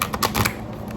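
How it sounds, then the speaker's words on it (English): A deck of cards shuffled close by, a quick burst of crisp papery flutters and clicks that fades after about half a second. "I had shuffled the cards earlier, but I'll do it one more time."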